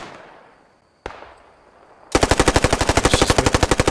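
Thompson submachine gun fire in the video game Post Scriptum: two single sharp shots, then a rapid, loud, evenly spaced burst of automatic fire lasting nearly two seconds.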